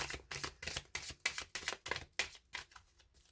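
Tarot cards are handled and laid down one by one, about ten quiet, crisp papery slaps and slides in an even rhythm, close by and alone.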